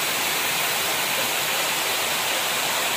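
River water rushes steadily beneath a bridge at Kali Kemiri in Nglipar, Gunungkidul, a dense, even hiss close by with no breaks or voices.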